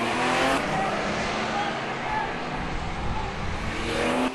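Race car roars down the track in a loud, continuous engine drone with some tire noise, close and steady throughout, with no voices over it.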